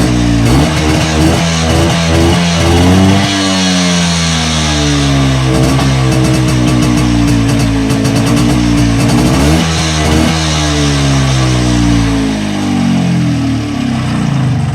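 An MZ TS125 two-stroke motorcycle with electronic ignition, kick-started without choke, runs loud and close, its engine note steady with a slight rise in revs partway through, no talk over it.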